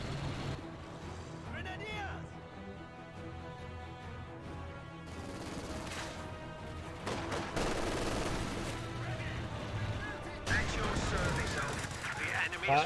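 Gunfire and machine-gun bursts from a Company of Heroes 2 battle between Wehrmacht and British forces, with infantry and a Cromwell tank, crackling as dense, overlapping volleys that swell louder near the end, under steady talk.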